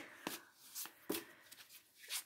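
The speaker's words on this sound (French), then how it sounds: "je ne sais pas battre les cartes" Oracle cards being shuffled by hand, a few crisp riffling bursts spaced irregularly with brief soft rustles between them, close and quiet with no talking.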